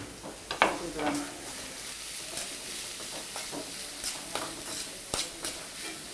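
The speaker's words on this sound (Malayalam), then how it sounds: "ഉള്ളി ഒരു വഴന്ന് കുറച്ചൊന്ന് വഴന്ന് കഴിഞ്ഞാൽ" Chopped onions sautéing in a pan while preparing masala for Kerala pathiri, a steady soft sizzle with occasional stirring scrapes, and a voice talking intermittently over it.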